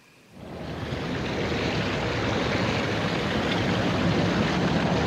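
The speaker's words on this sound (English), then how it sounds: "sound of the waterfall stopped" A waterfall in a Resident Evil video game rushes in abruptly after a brief quiet moment, then holds as a steady, full hiss of falling water.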